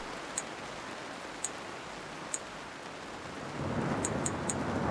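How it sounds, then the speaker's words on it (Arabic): Thunder rumbling inside a virtual reality experience, a steady broad roar with rain-like hiss that swells louder near the end, dotted with faint high ticks. "سامعين البرق؟ انا صوت البرق طالع في ودني."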